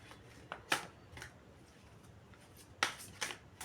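Tarot cards are drawn and shuffled in a series of quick, crisp, papery riffles and snaps, close and fairly quiet, with short pauses between bursts.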